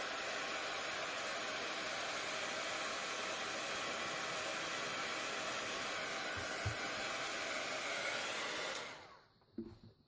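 Hair dryer blowing steadily over a freshly painted art journal page, a loud continuous whooshing roar held close for about nine seconds before it switches off and winds down.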